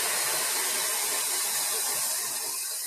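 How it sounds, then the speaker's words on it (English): A hair dryer set to high heat and low speed while styling a hair topper with a brush gives a steady, loud, broadband blowing rush that holds without a break from start to finish, with no talking. "I don't know if you're going to be able to hear me over the dryer"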